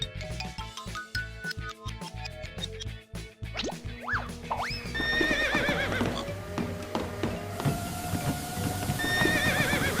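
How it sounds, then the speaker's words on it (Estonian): A horse on a treadmill in an animated children's superhero house story gives a series of loud whinnies and neighs over rapid, regular hoof clopping, with rising squealing calls filling the later part. "Te panite hobuse jooksulindile."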